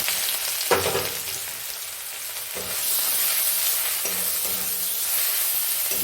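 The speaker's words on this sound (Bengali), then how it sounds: "ওই তেলের মধ্যে আমি গোটা গরম মশলা ফোড়ন দিয়েছিলাম আর একটা গোটা রসুন আর এক ইঞ্চি আদা পেস্ট করে রেখেছি সেই পেস্টটা দিয়ে দিলাম" Ginger-garlic paste hitting hot oil with whole garam masala, a loud sizzle bursting up at the start and frying steadily, with a couple of brief stirring scrapes and a renewed, stronger hiss toward the end.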